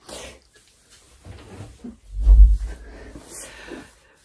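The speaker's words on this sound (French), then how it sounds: "Je vais fermer la porte" A door being shut indoors at home: a soft shuffle and handling noises, then one dull thud of the door closing, followed by faint rustling.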